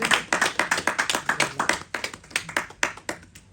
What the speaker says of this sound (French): Est-ce que ça ne mérite pas quelques applaudissements